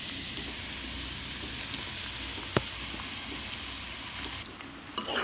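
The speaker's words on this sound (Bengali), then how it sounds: "এখন আমি এগুলোকে আরও কিছুক্ষণ ভালো করে ভেজে নেব" Potatoes and tripe fry together in a pan with a steady, even sizzle and crackle and an occasional sharp tick.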